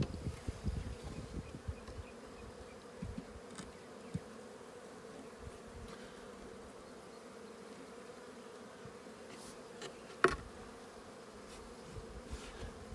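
Honeybees from a swarm buzz continuously in a hive during an inspection, a steady low drone with individual bees whining close by, plus occasional faint handling knocks.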